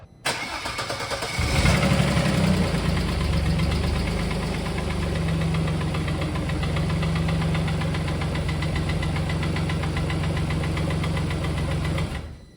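A Vauxhall Omega V6 engine cranks and catches, then idles loudly with an uneven, rough knocking rhythm that persists until it cuts off.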